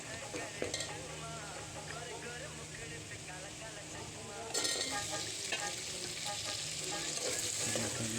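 Chicken fries in a pan with a continuous close sizzle and stirring scrapes that grow louder about halfway through, while a voice talks over the cooking.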